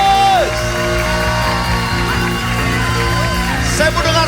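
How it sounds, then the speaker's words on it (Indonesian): A church congregation cheers and calls out hallelujah together, a dense crowd roar with whoops and shouts rising over steady music, loud and sustained throughout. "Saya mendengar sorak-sorai yang katakan haleluya"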